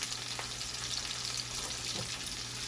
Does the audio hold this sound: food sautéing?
yes